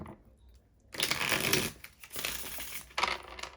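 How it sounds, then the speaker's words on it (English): Tarot cards shuffled by hand in a quiet room: a near, dense riffle of papery flutters building to a loud burst, easing, then a second sharp flurry at the end. "Let me shuffle these real quick."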